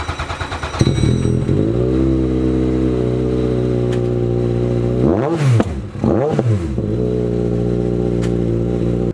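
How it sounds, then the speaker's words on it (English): A Ford Focus WRC rally car engine idles loudly nearby, then revs hard twice in quick sharp bursts before settling back to a rough, steady idle. "the noise of this thing, it started up like a bit of a lawnmower, and then it got deeper and angrier"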